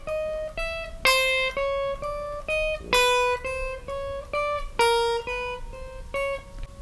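Picked guitar notes with the first note of each group accented, heard as a regular rhythm of clear plucked tones where a louder, brighter note opens every group; close and alone.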